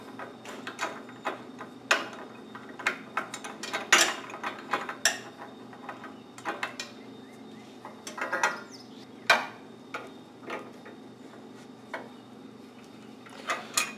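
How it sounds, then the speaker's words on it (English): Steel chain vise being tightened by a small hand lug in a shop, giving a run of irregular metallic clicks and ratcheting ticks, some sharper and louder, over a low steady hum. "you wrap the chain around here. And you've got a little hand lug on one side that you tighten up"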